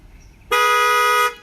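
The panic function on an Acura key fob sets off the horn: one loud, sustained blare close by, lasting under a second.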